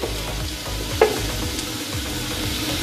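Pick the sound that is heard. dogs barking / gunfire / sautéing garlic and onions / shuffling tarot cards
sautéing garlic and onions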